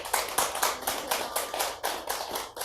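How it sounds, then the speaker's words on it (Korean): A church congregation claps in encouragement, a small group's sharp hand claps in a loose rhythmic pattern, close and clear with no talking. "우리 격려의 박수 한번 부탁드립니다"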